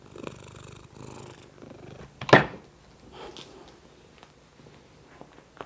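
A very old pet cat purrs softly while resting on a lap during work on 48V LiFePO4 battery bus bars, a low steady rumble with a brief louder rustle near the middle.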